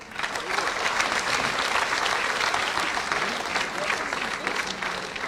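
Applause for students at a CAPE and CSEC results release, heard as a steady, moderately distant crowd clapping that runs for over five seconds with little change in intensity.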